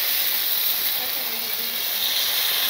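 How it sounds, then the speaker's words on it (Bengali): Broth is poured into a curry cooking in a pot in a Bangladeshi village kitchen, giving a continuous loud steamy hiss and sizzle with no clear break. "তরকারি হয়ে গেছে, এখন ঝোল দিয়ে দেবো।"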